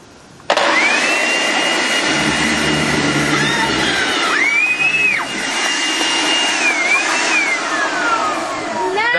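A homemade hovercraft's blower starts abruptly and roars steadily as it inflates a plastic sheeting skirt with drilled holes, a loud close whine with rising and falling pitch sweeps, with no talking.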